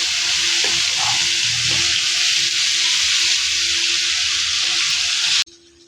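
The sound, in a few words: tomato paste frying in hot oil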